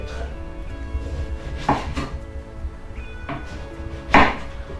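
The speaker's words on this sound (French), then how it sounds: "Donc on va essayer de les couper en rondelles, plus ou moins à 5 cm." Knife slicing eggplant into thick rounds on a board, a handful of separate firm chops spaced about a second apart, close and fairly loud.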